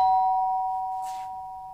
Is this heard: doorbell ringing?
yes